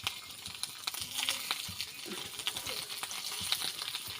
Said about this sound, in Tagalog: Nagprito po ako ng tuyo.